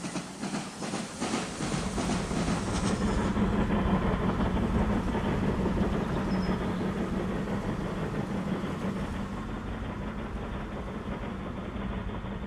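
A passenger train in Transport Fever 2 runs along the track with a loud, steady rumbling roll and a low engine drone, continuous throughout without speech, easing slightly toward the end.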